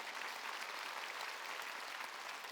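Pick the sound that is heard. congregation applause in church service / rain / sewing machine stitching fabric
congregation applause in church service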